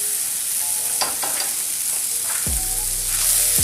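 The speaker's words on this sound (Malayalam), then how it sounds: "ഫ്രൈഡ് റൈസ് ഉണ്ടാക്കുമ്പോഴേക്കും ശരിക്കും എപ്പോഴും ഫ്ലെയിം നല്ല ഹൈയിലിരിക്കട്ടെ" Vegetables stir-frying for fried rice in a pan over a high flame, a steady loud sizzle throughout with scattered clatter of stirring and a heavy burst as more food hits the hot pan near the end.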